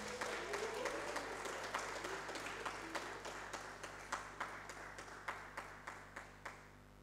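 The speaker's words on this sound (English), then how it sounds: "Shall we, with an applause, welcome our chair for this session, Surveyor Dr. John Koku Amaglo." Seminar audience at a land surveying annual meeting applauds to welcome the session chair, steady clapping that thins into a few distinct, evenly spaced claps toward the end over a low hum.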